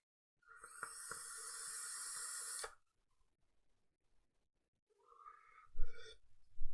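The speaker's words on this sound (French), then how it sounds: "C'est vraiment impressionnant la vapeur que ça dégage." An Innokin Thermo RDA e-cigarette releases a steady airy hiss of vapour for about two seconds, then falls silent, followed by a shorter faint hiss and soft breathy noises.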